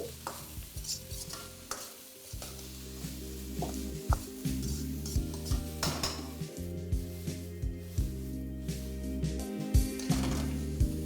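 Vegetables with a little corn and green peas are stir-fried over a high flame in a wok for vegetable fried rice, with a steady sizzle and repeated rhythmic scraping and tossing strokes of the spatula against the metal.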